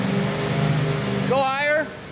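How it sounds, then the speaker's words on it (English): A Fox body Ford Mustang GT engine, abandoned and stranded on the road, is held at a raised, steady RPM with no load, giving a continuous near drone that climbs in pitch briefly toward the end. "Peter, just give it a little fuel there. So it goes up a little. Hold it at a higher, steady RPM."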